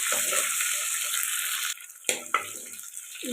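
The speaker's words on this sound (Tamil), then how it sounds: "இடித்த பூண்டு போட்டுக்கலாம். ஒரே ஒரு பச்சை மிளகாய். இது கொஞ்சம் வதங்கட்டும்." Crushed garlic and a single green chili frying in a pan, a loud close sizzle that dips partway through, broken by a few sharp stirring scrapes and clinks, no talking.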